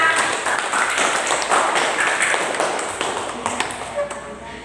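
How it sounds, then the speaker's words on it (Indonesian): A classroom group claps for a team of students after their presentation, a dense patter of hand claps and taps lasting several seconds and slowly thinning out toward the end. "Tepuk tangan dulu yuk untuk kelompoknya Mbak Naila"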